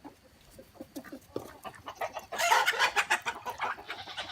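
Backyard chickens cluck in short, uneven bursts close by, first sparse and soft, then growing louder and busier as several birds call over one another.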